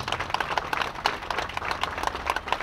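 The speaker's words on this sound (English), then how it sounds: "Bob, let's give him another round of applause." Applause from the audience at a Memorial Day ceremony: steady, moderately distant clapping from a crowd, continuous and fairly faint throughout.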